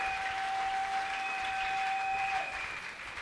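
A church congregation at a Sunday parish welcome, applauding loudly and continuously, a dense wash of clapping that fills the space evenly, with a steady tone ringing underneath and fading slightly near the end.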